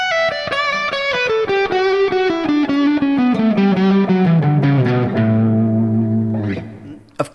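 An electric guitar plays a bending lick that steps down the scale, loud and sustained with effects and reverb, the notes gliding and falling before ending in a final pluck.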